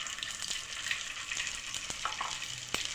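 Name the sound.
prawn pakoras deep frying in oil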